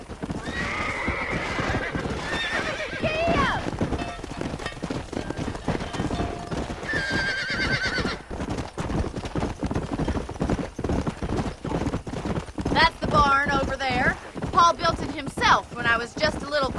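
Horse hooves clip-clop at a gallop in the Red Dead Redemption video game, steady and close, with whinnies breaking out now and then, wind rushing past and a character's voice calling over the hoofbeats.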